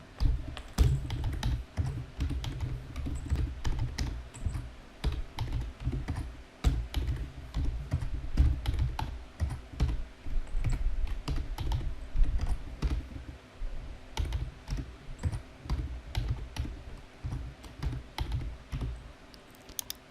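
Fingers type item codes into an Excel spreadsheet on a computer keyboard, giving dense, irregular clicking keystrokes close by with brief pauses throughout, and no talking.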